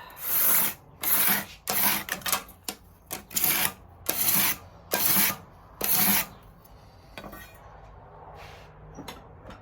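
A scraper works along a strip of guitar binding. About eight rhythmic rasping strokes come up close, each roughly half a second long, followed by quieter handling and a few light taps.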